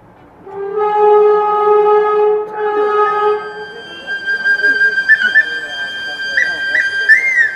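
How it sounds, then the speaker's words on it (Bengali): A Darjeeling toy train on its mountain run sounds a long, loud multi-tone whistle, followed by shorter whistle bursts over rumbling, clattering movement. "টয় ট্রেন চলল দার্জিলিং।"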